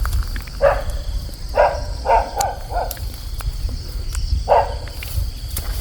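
A dog barks in a forest, several sharp barks in a loose cluster and then one more, heard at a moderate distance over a steady bed of insect buzz and some footsteps.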